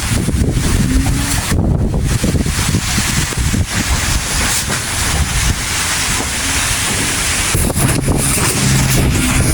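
Strong gusty wind from Super Typhoon Leon on Calayan Island, Cagayan, buffets the microphone continuously, roaring loudly with rushing, surging gusts and no voices.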